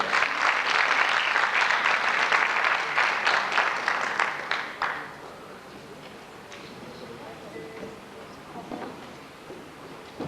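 Audience applause at a 2004 singing competition award ceremony, dense and loud for about five seconds before tapering off into a quieter hall with scattered sounds.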